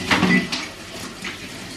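Dishes and pots clink in a home kitchen as they are loaded into a dishwasher, a few short clatters near the start, then quieter rattles.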